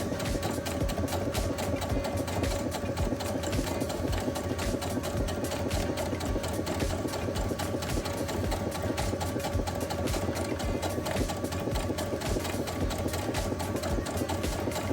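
A sewing machine top stitching a zippered fabric pouch, a fast, steady mechanical rattle running without pause at close range, with no voices.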